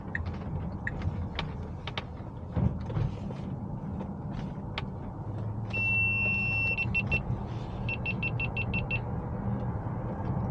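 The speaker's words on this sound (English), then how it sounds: "I'm not really sure why this camera is beeping now." A steady electronic camera beeping, a tone repeated in quick even pulses, sounds over the rumble of a Tesla Model X Plaid driving, with a longer sustained beep just before.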